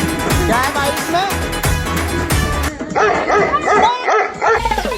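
A dog trapped inside a bag barks and yips in quick bursts, then whimpers and whines in rising, quavering cries, close and loud.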